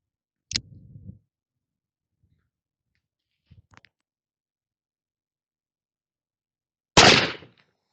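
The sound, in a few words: Confederate engraved brass revolver firing at a 28-yard target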